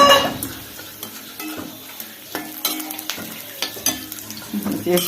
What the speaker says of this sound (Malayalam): ബാറ്റ് പപ്പടം പൊരിക്കാൻ പോവുക കേട്ടോ.